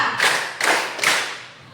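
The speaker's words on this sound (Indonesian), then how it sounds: "Tepuk 3." A group claps three times in unison during a teachers' coaching and academic supervision session, three sharp, evenly spaced bursts close by in a room, with no talking.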